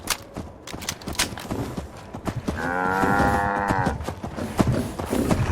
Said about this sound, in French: Les vaches à 2 têtes, ça.